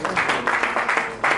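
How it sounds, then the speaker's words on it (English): A congregation at a branch chairman's investiture in Lagos State gives a brief, moderately loud round of applause, with uneven clapping swells over about a second and a half. "I want everyone standing in front here with a convincing and appealing round of applause"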